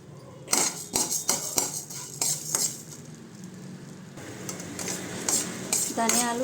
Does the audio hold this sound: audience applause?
no